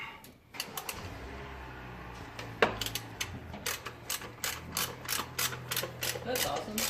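A ratchet works on 14 mm manifold bolts on a Stormtrooper Genesis, clicking in quick repeated strokes up close, sparse at first and then a steady run of ratcheting, over faint background noise.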